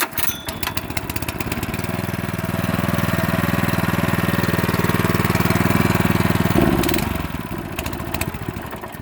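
A Bluebird 530A aerator plugger's 4.0 Honda engine is pull-started and settles into a steady, loud idle. It runs continuously for several seconds, then throttles down near the end.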